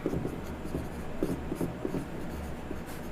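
Chalk or marker writes a line on a classroom board, a series of short scratchy strokes in uneven rhythm, close and moderately loud.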